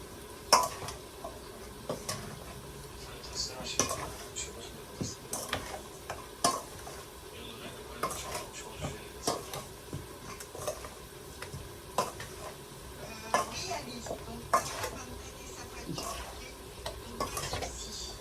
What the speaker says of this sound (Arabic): تعطيهم قرشة هيك بالقلي كتير كتير طيبة